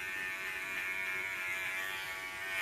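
A BaBylissPro cordless hair clipper hums through a fade haircut: a steady, close, continuous electric buzz with no break and no talking.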